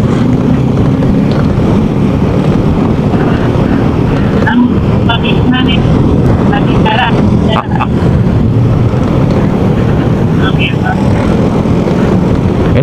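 Motorcycle engine revving and pulling along a road with three riders aboard, a loud continuous drone with wind buffeting, and people talking over it.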